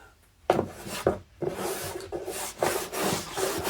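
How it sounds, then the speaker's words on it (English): A lidded tub of model railway ballast mixed with PVA glue is shaken hard, producing loud gritty rattling bursts in an uneven rhythm with short pauses between shakes, close by and with no voices. "pop the lid on, and we're just going to give that a good shake, get that all completely mixed through"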